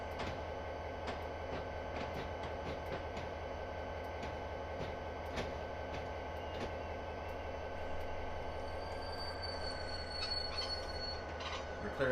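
A train in Castle Rock Railroad rumbles steadily with a constant low drone, faint clicking of wheels and a thin high squeal of braking creeping in toward the end.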